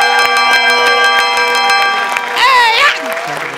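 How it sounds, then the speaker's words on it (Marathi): A bell rung to open a comedy skit on a stage show sounds in a series of bright, sustained ringing tones with sharp strikes. A short burst of voices rises near the end. "अरे बाबा घंटी वाजवण्यात तरी व्हेरिएशन दे रे"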